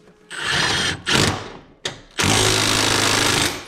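Impact wrench tightening a bolt on a car, firing in three loud hammering bursts: a short one, a brief one, then a longer sustained run, close and with no talk.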